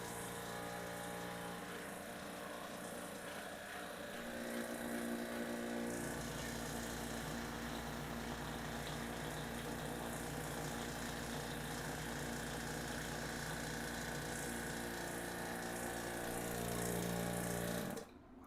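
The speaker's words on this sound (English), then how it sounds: "Pretty soon here, I'm going to shut this pump off." A pump runs steadily while rusty brakes are bled on a car, a loud continuous mechanical drone that shifts and intensifies partway through, then cuts off abruptly at the end.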